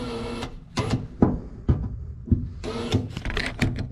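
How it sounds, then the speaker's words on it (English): Power drill fitted with a 3/8 bit boring holes into the sheet-metal body of a 1973-79 Ford truck, heard as several short, loud whirring bursts of motor spin-up with brief pauses between them. "All right, so I'm gonna get my drill set up here."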